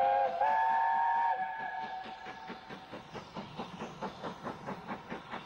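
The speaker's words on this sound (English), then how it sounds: "Camelot heads a Bluebell railway train made up of the southern green stock" The steam locomotive Camelot hauls a Bluebell Railway train of Southern green stock, opening with a clear whistle before settling into rhythmic, steady exhaust beats and wheel clatter that continue alone.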